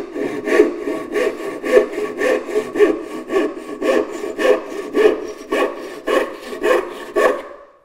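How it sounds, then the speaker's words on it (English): A fine-toothed tenon saw cuts through wood in steady back-and-forth strokes, about two per second, close and loud, with no voices, ending as the cut finishes. "I'm going to use a fine toothed tenon saw to get this"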